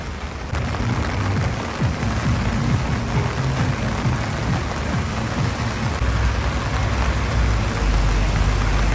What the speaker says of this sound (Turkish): Dışarıda zaten inanılmaz yağmur var.